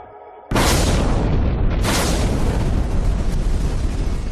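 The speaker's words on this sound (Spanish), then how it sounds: "Se produjo una explosión, no una explosión nuclear, sino térmica." A sudden, massive roar bursts in and sustains as a loud, dense rumble for several seconds, representing the thermal explosion of reactor number 4 at the Chernobyl nuclear plant in 1986.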